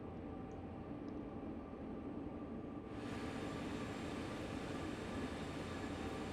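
SD70ACE diesel locomotive hauling an empty train with two locos on the Sherman Hill route in Train Sim World 3, a steady low rumble that grows louder and fuller halfway through.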